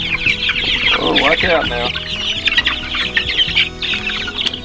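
Cornish cross chickens in a brooder cluck and chirp busily and close up, a dense overlapping flock chatter with a few louder squawks, while a person briefly speaks over them.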